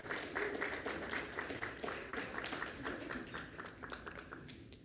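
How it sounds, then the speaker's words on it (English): Applause from a panel audience at a maritime industry conference, a thin, distant patter of clapping with distinct individual claps that rises and then gradually tapers off. "Let's give a round of applause"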